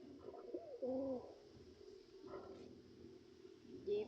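Pigeons coo softly nearby, a few low throaty coos rising and falling over a quiet background.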